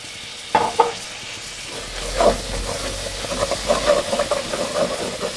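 Fish sauce hits caramelized sugar in a pot with a sharp hiss, then sizzling and bubbling carry on under close stirring scrapes, loud and steady for several seconds with no talking.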